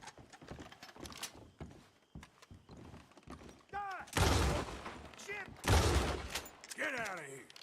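Shotgun blasts in the video game Red Dead Redemption 2: two loud, heavy booms stand out over lighter in-game activity, with a voice talking in between.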